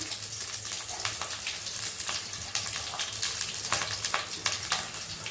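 Curry leaves dropped into hot oil in a pan for a Tamil kuzhambu, giving a steady, busy sizzle with crackling pops and sharp spits scattered through, close and continuous.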